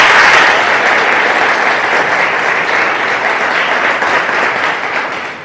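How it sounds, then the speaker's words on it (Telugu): Audience applause for a faculty member who ran a five-day tailoring training program for women at a certificate distribution event, a steady dense clapping crowd that holds loud throughout and tapers slightly at the end. "పూర్ణిమ మేడంకి క్లాప్స్ కొడదాం"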